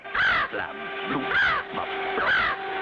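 A cartoon bird caws three times in a harsh, rising-and-falling call, loud and close over a steady music bed, with a voice speaking briefly between calls.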